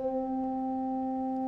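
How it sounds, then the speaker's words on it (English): A pipe organ sounds a single sustained fundamental note, steady and clear with its harmonics, held evenly from start to end with no talk. "Here's the fundamental."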